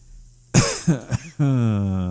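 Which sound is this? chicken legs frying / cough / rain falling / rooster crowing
cough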